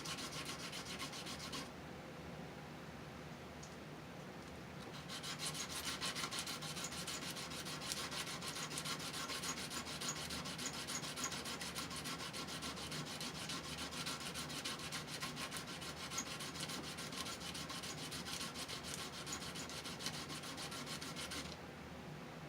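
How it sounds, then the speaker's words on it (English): Sandpaper rubbed over a metal terminal on a Sony tape deck, a continuous close scratchy rasping that starts after a short quieter lead-in, grows steadier and fuller after about five seconds, and stops near the end. "So first we'll take our sandpaper here. And we're going to sand this terminal here so we get a nice solder connection to it."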